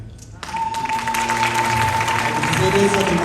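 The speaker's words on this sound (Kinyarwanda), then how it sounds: "Neza mukomera amashyi." Wedding guests in a church clap together in sustained applause, starting after a brief pause and continuing at a steady, fairly loud level, with voices murmuring and a faint steady tone beneath.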